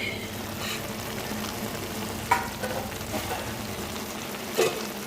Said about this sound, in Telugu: ఇందులో నీరు పోయే వరకు వేయించుకుంది